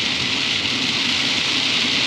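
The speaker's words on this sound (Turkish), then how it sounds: "Acayip yağmur yağıyor." Heavy rain pours steadily outside during a flood-prone downpour, a dense, loud, unbroken hiss with no voices.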